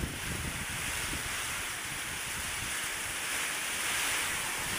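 Strong, steady typhoon wind roars and rushes continuously on a farm, a broad blustery noise buffeting the microphone without pause.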